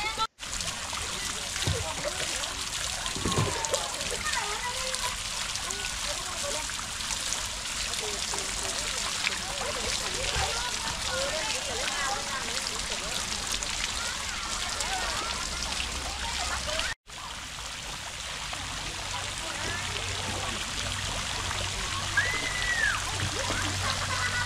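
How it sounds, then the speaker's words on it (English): Water splashes and trickles steadily at a pond with two bamboo water wheels and a row of fountain jets, a constant rain-like patter with a voice speaking over it. "On one side of the pond are two water run wheels, all made from bamboo, as well as a fountain with several water jets on a row."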